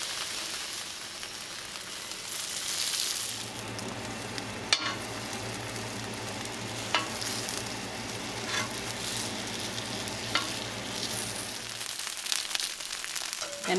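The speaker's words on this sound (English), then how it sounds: "Place your taquitos on that oil, and you're gonna continue to crisp up these taquitos" Beef birria taquitos crisping in oil in a pan, a soft steady sizzle that swells in the middle with an occasional tap of the pan, under a low hum.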